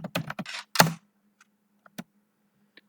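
A few quick keystrokes on a computer keyboard tap out a search term in a fast cluster, then a couple of isolated faint clicks follow against a low steady hum.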